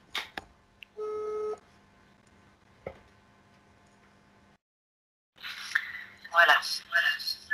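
A telephone gives off a short steady tone and a few faint clicks, followed by quiet and then voices talking nearby.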